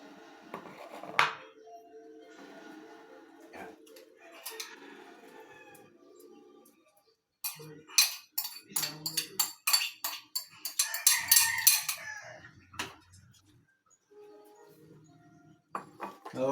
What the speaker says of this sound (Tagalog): kalimbang ng pinggan o mangkok